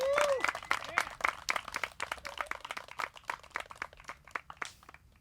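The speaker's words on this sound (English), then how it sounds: "Give a big round of applause to our afternoon FPO session." A crowd at a 2021 disc golf match play championship applauds with dense clapping that gradually thins out, along with a few whoops and cheers at the start.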